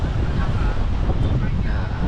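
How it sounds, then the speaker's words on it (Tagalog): Strong wind buffets the microphone in a constant low roar at night in Quezon City, with faint voices blurred beneath the rumble. "Lakas ng hangin, ginhawa."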